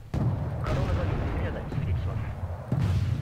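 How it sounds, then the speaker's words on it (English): Deep, booming cannon blasts thud in a couple of heavy bursts, with rumbling in between, heard over the soundtrack of Wargame: Red Dragon. "Okay, he's in cannon range, he's firing."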